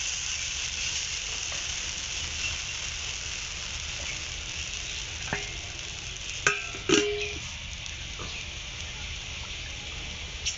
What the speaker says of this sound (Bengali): কড়া গরম হয়ে গেছে কড়ার গায়ে আবার তেল লাগিয়ে দেব